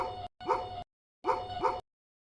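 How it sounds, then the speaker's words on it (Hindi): A dog barking near a village footpath at night, two paired yipping barks with a pause between them, fairly clear and alone with no talk. "कहीं दूर से भौंकते कुत्ते"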